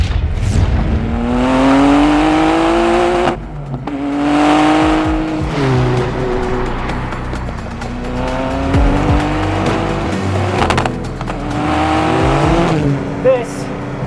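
Totem Automobili GT Super, a new Alfa Romeo-based car with a 670-hp twin-turbo V6, driving hard. Loud, close engine revs climb in repeated sweeps separated by gear changes, with a brief tire squeal.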